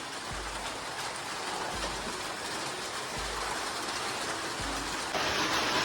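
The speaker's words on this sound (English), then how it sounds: "As soon as we finished, started raining." Rain falling outdoors: a soft, steady hiss of drops that grows slightly heavier toward the end, with a few low, regular thumps beneath it and no voices.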